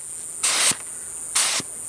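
Two short bursts of spray paint hiss from an aerosol can during touch-ups over black overspray on a skoolie bus, each about a quarter second, close and sharp with quiet pauses between.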